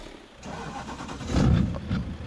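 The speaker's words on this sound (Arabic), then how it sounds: "خلينا نشغلها الشاحنة." A Renault truck with a 520-horsepower engine starts up in Euro Truck Simulator, cranking and catching into a deep rising rumble that settles toward idle, loud and close with no talk.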